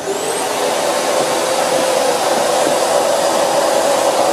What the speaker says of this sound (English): Starting the dust collection system.